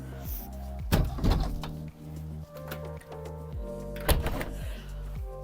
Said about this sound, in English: Quickly close the door.